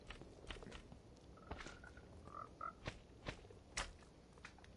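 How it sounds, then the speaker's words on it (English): Minecraft frogs eating: quiet, crisp tongue-snap and gulp sounds repeating at uneven intervals, mixed with soft popping blips and faint footsteps over a low ambient hiss. "Now you can see the frogs eating them."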